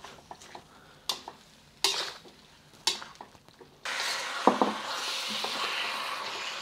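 Beef with sauce and green onions stir-frying in a wok, with a few scrapes and taps of a utensil first, then a steady loud sizzle as the food hits the hot pan, close by and alone.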